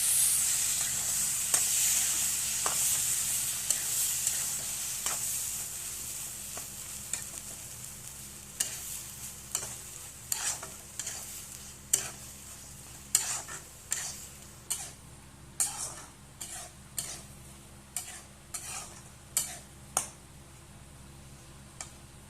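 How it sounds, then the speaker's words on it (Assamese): Spinach paste stirred into a fish curry in a pan, with a soft sizzle under a run of quiet spoon scrapes that turn into regular ticking taps against the pan. "এতিয়া আমি পালেং শাকৰ পেষ্টখিনি দি দিম ভালকৈ মিক্স কৰি লম"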